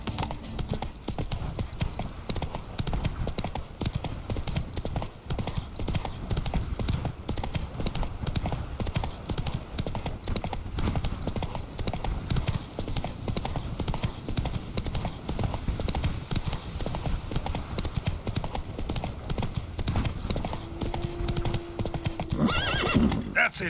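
A horse gallops steadily through the whole stretch in the video game Witcher 3, with rapid, continuous hoofbeats over a constant ambient background. One brief whinny comes near the end.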